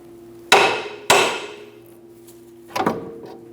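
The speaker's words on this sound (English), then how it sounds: "Give the control arm a bonk to remove the ball joint from the control arm." Three sharp metallic hammer blows strike the lower control arm of a 2003-2007 Honda Accord to knock the ball joint free, two close together and one after a pause, each ringing briefly.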